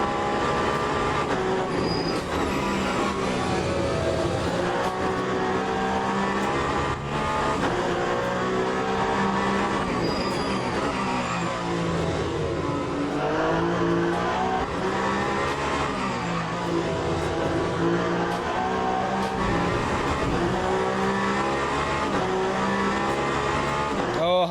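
Race car engines roar continuously in the Le Mans Ultimate racing game, loud and sustained with shifting pitch through gear changes and a brief tire squeal, no talking.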